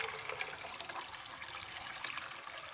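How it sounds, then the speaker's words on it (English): Running water rinses a pot holding sorrel, a steady close splashing and trickling throughout with small clattering pulses, no voices. "I'm going to rinse back the pot with the sorrel today now."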